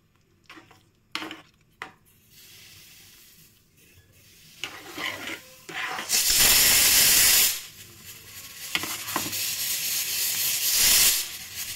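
A pressure cooker cooking rice lets out a loud, rushing steam whistle lasting over a second, followed later by a longer hissing build, after scattered kitchen clinks and clatter.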